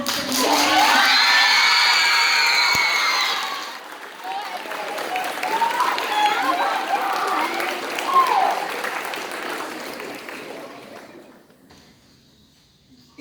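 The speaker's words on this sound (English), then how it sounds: "If you could just wait until I read out the name and the school as well before you start cheering." Schoolgirls in a crowd cheer, shriek and applaud loudly at results for a girls' Shakespeare competition. The noise swells at first, then eases into mixed clapping and chatter before fading to near silence.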